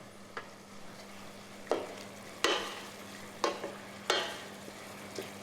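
Shrimp sizzle softly in a pan under a low constant hum while a spoon stirs in red chili flakes, several sharp scrapes and clinks spaced irregularly over a faint frying hiss.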